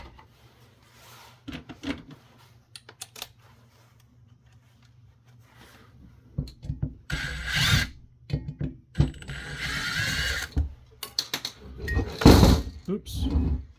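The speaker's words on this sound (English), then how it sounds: "Screws I need to remove." Small screws being removed from a Kenwood KRK-50 (TK690H) mobile car radio during a teardown, giving scattered clicks, ratcheting turns and metallic clunks, up close, with someone speaking now and then.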